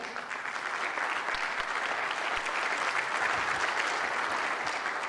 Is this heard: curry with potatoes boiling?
no